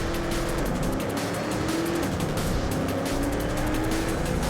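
A car drifts through a canyon track in the racing game Trackmania Turbo, its engine droning loud and steady under a continuous squeal of sliding tires that rises and falls in pitch.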